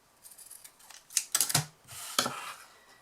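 Scissors trim the ribbon ends of a bow in a handful of crisp, close snips that come in quick succession, with a brief pause between the cuts.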